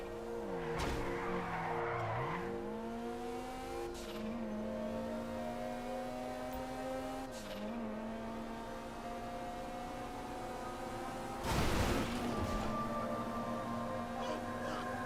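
A car drifts in GTA Online, its engine whining and bending in pitch while tires skid and squeal, with brief sharp bursts of screeching; the sound is steady and fairly quiet throughout.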